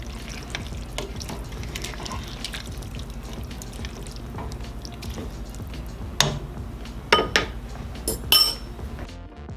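Sweet potato chili is dished up: faint scraping and squishing give way to a few louder, close clinks of a utensil against a pot and bowls near the end.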